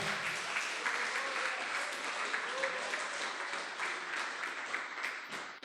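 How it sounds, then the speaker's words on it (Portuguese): Church congregation claps for the Lord during a Portuguese-language sermon, a thick, even wash of applause heard at moderate distance, with a faint voice under it and a brief dip just before the end. "Vamos aplaudir bem forte ao nosso Senhor."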